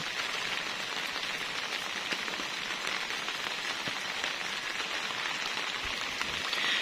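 Steady rain falls on a garden of lush croton plants under an overcast sky, a dense, even hiss of drops that holds at a constant level throughout with no voices.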